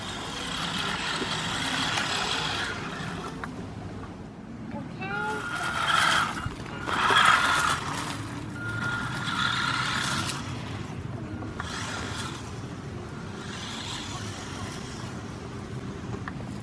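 An ECX Roost 1/18 scale RC desert buggy's electric motor whines steadily as the buggy zips around nearby, rising in pitch during bursts of speed, while people talk over it.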